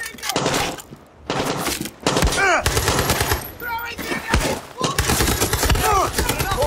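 A grenade explodes amid rapid machine-gun fire in a shooting video game, thick bursts of shots with thumping impacts and whistling sweeps, while someone talks excitedly over the action.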